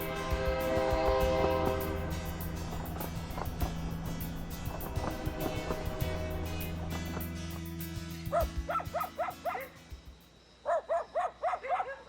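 The 5633 passenger train sits at its starting station in pre-dawn darkness, giving a sustained droning, horn-like tone over a steady engine hum, with sharp bark-like bursts in the final seconds.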